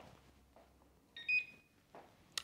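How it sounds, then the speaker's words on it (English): A kitchen timer beeps briefly while a Swedish Bundt cake made with spelt bakes, a short bright electronic beep sounding clearly against a quiet kitchen background. "There's my timer."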